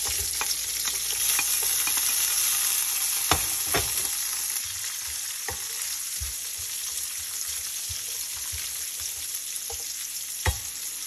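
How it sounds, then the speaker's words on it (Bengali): Cumin and black cumin seeds fry in a pan with a steady, soft sizzle, punctuated by a few sharp knocks and scrapes of a spoon stirring. "এখানে একটু জিরা, কালো জিরা, জিরা দিয়ে একটু ফ্রাই করে নিলাম। তারপরে দিয়ে দেবো পেঁয়াজ"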